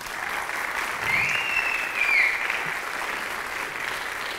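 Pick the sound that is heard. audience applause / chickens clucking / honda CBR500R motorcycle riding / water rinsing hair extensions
audience applause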